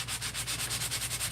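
A sanding block is rubbed over a painted wooden dresser in quick, even back-and-forth strokes, a close, rhythmic scratchy rasp repeating about every tenth of a second, with no voices.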